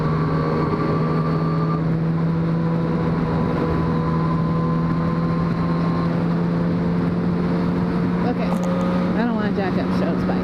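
Yamaha FZ-09 (MT-09) motorcycle engine while riding, a steady loud drone holding a constant pitch with wind rush, then brief rising revs near the end.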